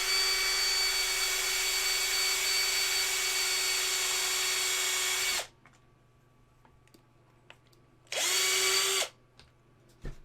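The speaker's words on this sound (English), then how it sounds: "That wasn't very deep, but the drill couldn't go deeper." A handheld power drill whirs steadily for about five seconds while boring pin holes into a resin model kit piece. It stops, then a second, shorter burst of about one second follows after a quiet pause.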